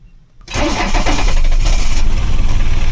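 A 1979 Mercedes-Benz W123 engine starts up in freezing weather and is held at raised revs with extra gas. After a brief quiet moment it settles into a loud, steady, close roar.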